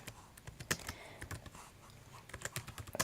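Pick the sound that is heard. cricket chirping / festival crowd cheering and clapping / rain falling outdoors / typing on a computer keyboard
typing on a computer keyboard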